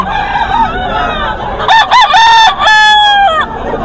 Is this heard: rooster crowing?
yes